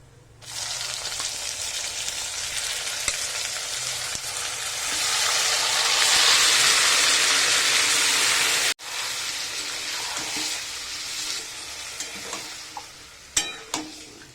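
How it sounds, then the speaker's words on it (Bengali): Marinated mutton hits oil with fried garlic for Bengali mutton kosha, setting off a loud, rising hiss of sizzling that holds steady, then, after a sharp cut, continues with stirring clatters and scrapes near the end. "রসুন ভাজা হয়ে গেছে, এর মধ্যে দিয়ে দিচ্ছি ম্যারিনেট করে রাখা মাংস।"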